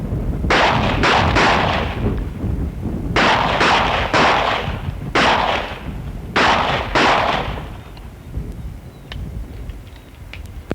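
Police officers firing handguns on a training range, heard as rapid volleys of loud, close shots in several bursts separated by short pauses, then fading to quieter sporadic cracks.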